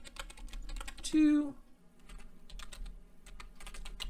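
Rapid computer keyboard typing while notes and credits are entered into a Scratch project, close and continuous clicking keystrokes, briefly interrupted by a short spoken word.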